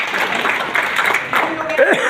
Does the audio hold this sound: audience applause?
yes